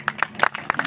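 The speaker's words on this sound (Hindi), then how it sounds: "जोरदार तालियां" Scattered claps and brief bursts of applause from a crowd at an outdoor farmers' rally in Haryana, short and uneven, with no speech over them.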